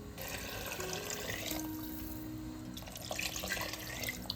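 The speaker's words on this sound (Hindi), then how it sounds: "अब डाल देंगे 6 से 7 कप पानी।" Water pours steadily from a vessel into a pot of soaked chickpeas for chole, a continuous close splashing and gurgling stream with slight shifts in flow.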